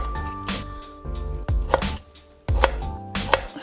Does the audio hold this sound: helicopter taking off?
no